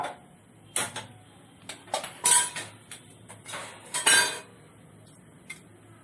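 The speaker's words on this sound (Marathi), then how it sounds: "आता कढी गॅसवरती ठेवूया" A metal kadhai is set on a gas stove for frying pumpkin gharge in ghee. A scatter of close metallic clanks and clatters rises in a few bursts, then fades to quiet with one last tap.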